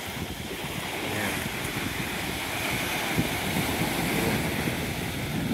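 Surf washes steadily onto Phuket Beach in Thailand at sunset, a continuous close rush of waves mixed with wind buffeting the microphone, with no voices.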